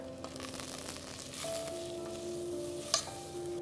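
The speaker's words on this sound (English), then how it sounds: "Now we're going to add our star ingredient, that is the sambar powder, into the pan. Let's mix this around." Sambar powder stirred into sautéed vegetables in a pan, a quiet gentle sizzle with soft scraping stirs and a brief clink near the end, with a faint tonal hum underneath.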